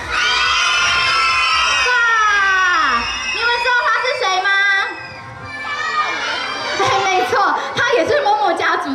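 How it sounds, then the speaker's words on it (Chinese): Children at an outdoor kids' music and dance show scream and cheer loudly in a dense, high-pitched burst, then fade into excited chatter and shouting. "那我拿出来要有尖叫声，准备咯"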